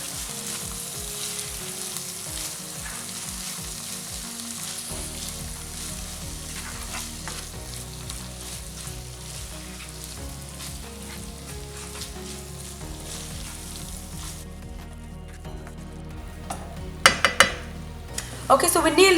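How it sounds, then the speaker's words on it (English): Moong dal is stirred into frying spices and a tomato mixture with a steady close sizzle and soft spoon scraping, ending in a few sharp clinks of a utensil against the pan. "just gently mix that in with the spices and the tomato mixture"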